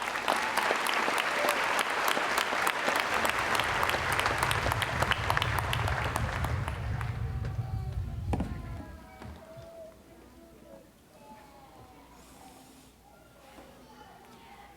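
Audience applause welcoming a speaker at an event, a dense, loud crowd clapping that fills the first eight seconds, then fades into quieter room sound with a few scattered claps.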